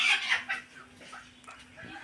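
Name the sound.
chickens clucking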